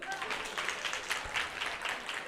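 Applause from a church congregation, soft and somewhat distant clapping from a group that blends into a loose, continuous patter at moderate volume.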